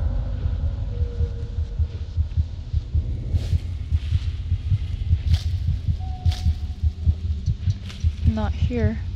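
A steady, thudding heartbeat from the horror video game Among the Sleep pulses close and loud throughout, a rhythmic double thump over a low hum with scattered game noises.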